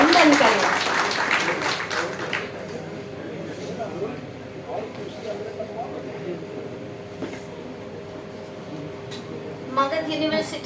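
A short burst of audience applause at a Magadh University foundation day ceremony fades after about two seconds, followed by quieter background sounds and voices.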